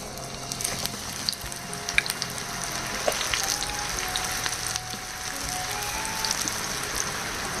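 Spinach pakoda fries in hot oil, a steady dense sizzle with light crackles and a few clinks of a utensil, fairly close and continuous throughout, with no talking.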